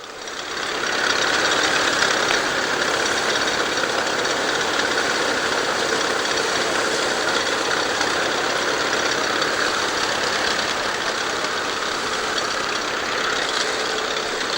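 A 42-inch Ransome thresher, powered by a Landini Bulldog tractor, is threshing barley sheaves at a vintage show. It makes a loud, steady mechanical drone with a continuous engine rumble and the whir of the machinery, running unbroken throughout.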